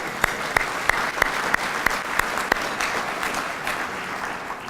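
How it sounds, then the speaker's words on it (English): Applause from an audience at a homecoming luncheon, a steady wash of many hands clapping with a few sharp, evenly spaced louder claps standing out near the front. "One round of applause for our board"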